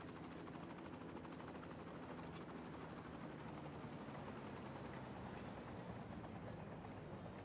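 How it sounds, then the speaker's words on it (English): A video-game helicopter flies continuously, its dense rotor chop and engine drone steady and close throughout with no talk. "If you're rich enough, you can fly around in our helicopters."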